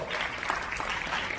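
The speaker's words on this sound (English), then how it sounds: "let's give a round of applause for the" A crowd at an image consultants' anniversary gathering in Manila gives a round of applause, a dense, steady wash of clapping filling the room for a short moment.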